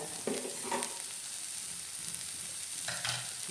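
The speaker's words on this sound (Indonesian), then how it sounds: "sekarang adalah waktunya kita memasukkan mentega." Butter, a Blue Band margarine sachet, melts in a pan for fried butter chicken with a soft, steady sizzle, broken by a few scraping stirs near the start and end, with no voices.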